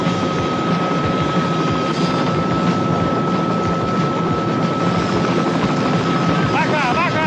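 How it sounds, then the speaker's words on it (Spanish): A helicopter drones steadily overhead, a loud continuous rotor and engine roar that fills the whole stretch without letting up. "Es un helicóptero."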